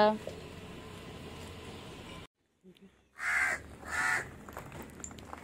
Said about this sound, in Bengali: কাকগুলো কেমন ডাকছে দেখো।